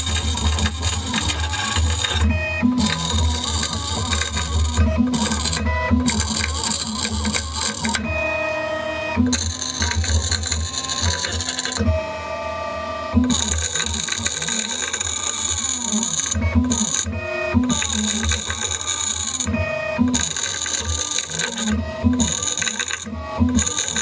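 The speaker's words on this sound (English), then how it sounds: "Speed up the machine here, maybe it won't grind so hard." A CNC machine engraves glass, grinding loudly and steadily with a gritty, buzzing tone that stops and starts in short pauses.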